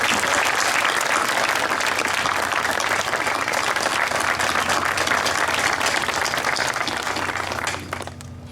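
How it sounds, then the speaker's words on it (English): Sustained applause from an outdoor audience at a September 11 memorial ceremony in New London, Connecticut, a loud dense wash of many clapping hands that holds steady for several seconds, then thins and fades near the end. "How about another round of applause for Jackson"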